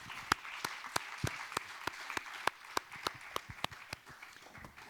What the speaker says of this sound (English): please join me in a round of applause for all our panelists